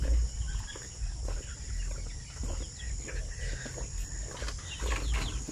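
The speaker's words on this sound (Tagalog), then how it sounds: "doon sa mga sisiyo natin, ayan, kasi kahapon may nagtatanong, gusto niya makita yung shamo na sisiyo na available natin" Shamo chicks cheep faintly amid steady farmyard background noise, with a low rumble and a voice talking nearby.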